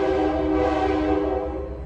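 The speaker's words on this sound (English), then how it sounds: "Sorry for the train." Passing train heard as a steady, loud tonal drone like a horn or wheel hum, sustained throughout and fading slightly at the end, with no talking over it.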